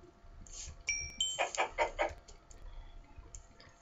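Chickens clucking in the Minecraft video game, a few short clucks and squawks in a burst, clear and close over faint background game sounds.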